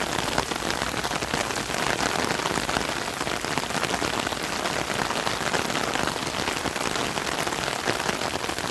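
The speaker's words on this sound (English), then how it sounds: "Love the sound of the raindrops coming down on the umbrella." Heavy rain patters steadily and densely on an umbrella on a cool morning in Bath, Maine, a close, constant drumming with no pauses.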